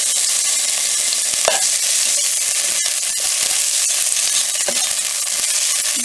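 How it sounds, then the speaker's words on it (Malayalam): Grated coconut sizzles steadily in hot coconut oil in a pan, a dense continuous frying hiss with a few light scraping stirs, close and fairly loud. "നമുക്ക് ഇനി ഇതിട്ട് കൊടുക്കാം, തേങ്ങ ഇട്ടിട്ട്. ഇനി ഇത് ജസ്റ്റ് ഒന്ന് ഫ്രൈ ചെയ്തെടുക്കട്ടെ."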